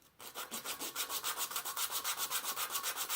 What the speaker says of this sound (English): Do just a little sanding on this.